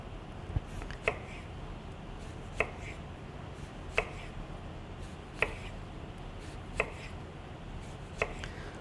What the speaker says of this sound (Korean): 너무 얇게 썰게 되면은 소금에 절이고 난 이후에 너무 이제 흐물흐물하게 되니까 너무 얇은 것보다는 한 이 정도 두께를